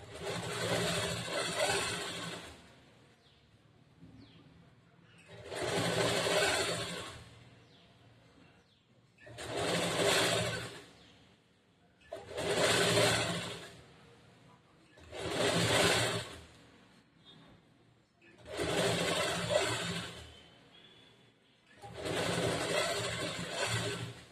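Sewing machine stitching a double seam on a blouse without lining, running in seven evenly spaced bursts of rapid whirring separated by short quiet pauses, close and clear.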